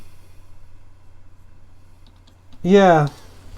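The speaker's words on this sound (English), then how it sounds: "I can hear you typing furiously" Faint, scattered keyboard typing clicks over a low hum, then a short burst of a voice speaking near the end.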